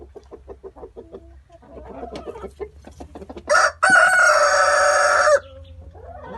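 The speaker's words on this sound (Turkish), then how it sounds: "Ay nasıl da öttü." Quiet clucking and scattered bird chatter, then a rooster lets out one loud, sustained crow nearby before the chatter resumes.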